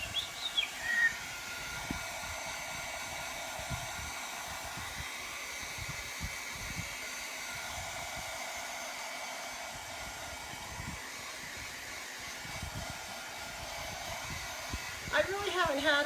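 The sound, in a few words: hair dryer drying paint on a craft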